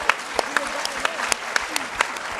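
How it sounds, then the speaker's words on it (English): A conference audience breaks into a round of applause, a close crowd clapping with sharp, distinct hand claps popping out over the wash, with voices faintly underneath. "Okay, give yourselves a round of applause."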